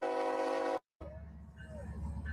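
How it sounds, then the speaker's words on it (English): The Freedom 250 train, number 1776, sounds a long steady multi-tone whistle as it arrives in North Dakota, then cuts off, leaving rumbling train noise with a faint whistle tone afterwards. "Here comes the president with the whistle blowing."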